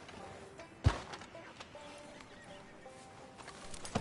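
A horse in Red Dead Redemption 2 gives one sharp whinny near the start, then hooves clip-clop steadily at close range against low ambient background.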